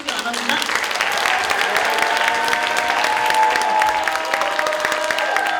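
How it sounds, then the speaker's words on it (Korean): Applause from a crowd at a forum opening ceremony, a continuous clatter of many hands clapping under some faint background voices and a steady tonal hum. "큰 박수로 맞아주시기 바랍니다."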